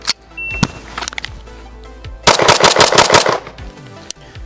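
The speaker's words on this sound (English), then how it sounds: "Last gun we have for the build drill is the Staccato XC." Gunfire from a Staccato XC pistol on a shooting drill: a few spaced shots, then a rapid, loud string of close shots fired in quick succession.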